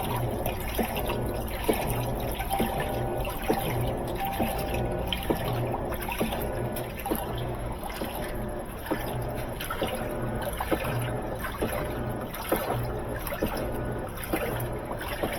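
Water pours steadily into the drum of a high-efficiency washing machine, a continuous close splashing trickle punctuated by small, regular knocks.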